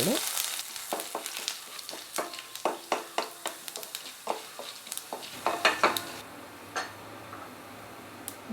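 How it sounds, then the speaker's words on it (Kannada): Chana dal, urad dal and mustard seeds fry in oil on a low flame, giving a faint, steady sizzle broken by a quick series of sharp crackling pops and ticks. "ಒಂದು ಚಮಚ ಕಡಲೆಬೇಳೆ ಒಂದು ಚಮಚ ಉದ್ದಿನ ಬೇಳೆ ಹಾಕಿ ಎಲ್ಲದನ್ನೂ ಲೋ ಫ್ಲೇಮಲ್ಲಿ ಲೈಟಾಗಿ ಕಲರ್ ಚೇಂಜ್ ಆಗೋ ತನಕ"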